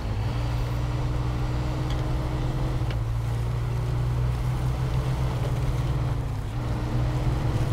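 Truck engine from the SnowRunner off-road driving game on a rainy hard-mode run, a steady low droning hum held close and loud throughout, with a brief dip in pitch near the end.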